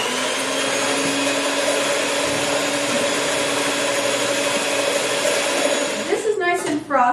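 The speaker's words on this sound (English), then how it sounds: "So I'm going to go ahead and start whipping the egg whites now." An electric mixer whipping egg whites for Italian Ricciarelli almond cookies, a loud steady whirring drone held throughout, ending with a short burst of speech over it.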